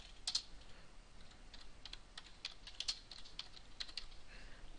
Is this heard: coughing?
no